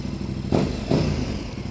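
A KTM 1290 Super Duke R motorcycle engine rumbles low and throaty nearby, with two short surges in volume over a steady mechanical drone.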